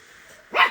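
A single short dog bark rings out close and loud after a faint quiet background.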